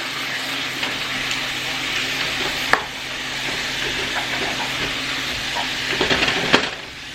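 Ground beef sizzles steadily in a pan, with a spatula scraping and stirring now and then, a constant close crackle with no talk.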